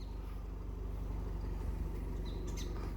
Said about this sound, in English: Hear that? There's birds.